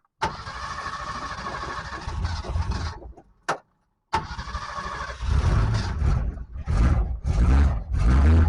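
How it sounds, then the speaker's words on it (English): A 1962 Ford Falcon engine cranks loudly for about three seconds, pauses briefly, then grinds again with a rough, uneven churn that swells toward the end, close to the microphone. "Let's see if we can get her to crank here."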